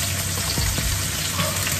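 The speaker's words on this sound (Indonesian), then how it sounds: "terus digoreng kayak goreng biasa itu loh ya" Shrimp sizzle and crackle steadily while frying in hot oil in a pan for a sweet-and-sour stir-fry, a dense continuous hiss with a few utensil stirs, close and fairly loud, with no talking.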